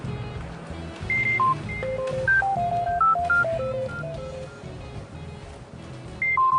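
Mobile phone keypad dialing tones, a quick run of short, clear beeps over a rhythmic low background with no talk.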